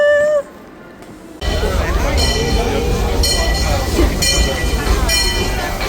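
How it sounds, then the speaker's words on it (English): Disneyland Paris railroad train running through the park, a continuous rumbling roll of carriages starting after a brief quieter moment, with people talking and calling out over it. "We're going on the train."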